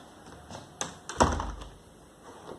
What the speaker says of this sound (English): So now the handle is open, so I can tilt the door.